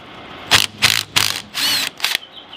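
Ratchet working bolts loose on the A/C compressor of a Freightliner Cascadia with a DD15 engine: five close, loud bursts of rapid metallic clicking, each under a second, separated by short pauses.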